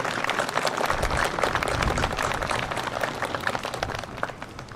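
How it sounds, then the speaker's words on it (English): An outdoor crowd at a Veterans Day memorial ceremony gives a round of applause, dense clapping that holds steady and then thins out toward the end. "If we can give them a round of applause."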